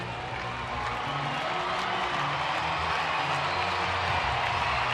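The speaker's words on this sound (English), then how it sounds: "Sellout crowd on Fan Appreciation Night trying to cheer on the Rangers, or I should say the Royals" Sellout stadium crowd at a Rangers–Royals baseball game on Fan Appreciation Night, a steady broad roar of cheering that holds evenly throughout and swells slightly toward the end.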